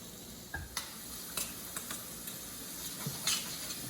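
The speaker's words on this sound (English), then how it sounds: "once you start hearing that sizzle, turn it down just a little bit" Bacon sizzles in olive oil with a steady, close hiss in a sauté pan, broken by a few sharp scraping clicks as it is stirred and broken up.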